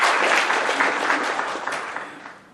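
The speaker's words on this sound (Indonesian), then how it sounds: "Kita berikan tepuk tangan." A large audience at a leadership and human capital summit in Indonesia breaks into dense, loud applause that holds steady, then gradually tapers off toward the end.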